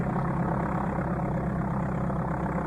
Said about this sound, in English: it had the same engine sound effect